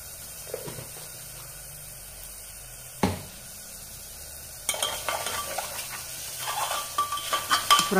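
Mushroom brown rice biryani sizzles and fries in a pan while a spoon stirs and scrapes, with a sharp clank partway through, then busier stirring and louder frying toward the end, and no one talking.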